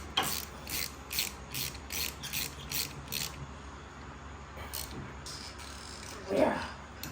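A ratchet clicks in quick bursts while 13-inch bolts are tightened on the back plate of a Baja Bug, several rapid clicking runs close up, followed by a brief clunk near the end.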